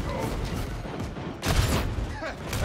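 Gunfire in the co-op shooter Warhammer 40,000: Darktide, dense bursts of shots amid game noise, swelling louder in the second half, with a voice talking over it.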